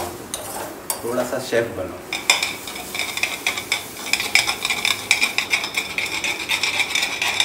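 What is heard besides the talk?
mixing soya sandwich filling ingredients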